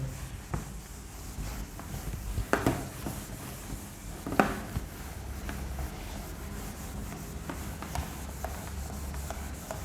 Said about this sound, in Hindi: ये मार्कर सही क्लियर नहीं हो रहा है, ये काफ़ी रगड़ना पड़ रहा है।